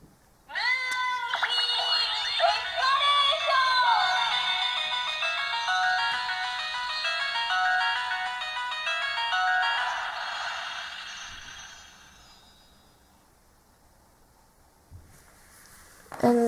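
Electronic chimes and a twinkling melodic jingle ring out loud and close from a Sailor Moon Moon Stick Proplica toy wand on a long press, sustaining for about twelve seconds before fading, followed by a faint click or two.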